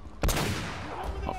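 A single sharp sniper shot in Uncharted: Drake's Fortune, a loud close crack followed by a lingering echoing tail, with a brief second report near the end.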